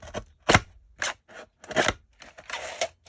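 A small cutting machine struggles through several bumpy layers of lace fabric, giving about six short, close crunching snips with gaps of silence between them and no talking.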